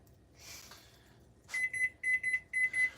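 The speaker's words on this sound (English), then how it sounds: "There's my timer." Kitchen timer alarm heard during flatbread preparation, sounding as a series of about six short, high-pitched electronic beeps in quick pairs, loud and clear after some quiet kitchen rustling.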